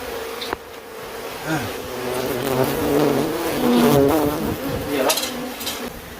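Bees buzz in a dense, wavering drone close by while a small bee nest is torn apart, with sharp knocks and clatter from the dismantling cutting through the swarm.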